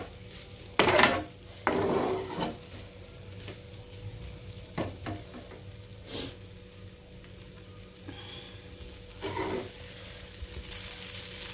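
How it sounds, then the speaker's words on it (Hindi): Poha roasts in a pan with a faint sizzle, broken by a few close, loud scraping stirs early on and lighter utensil knocks afterward. "अब बस हम इसको कुछ सेकंड तक भून लेंगे।"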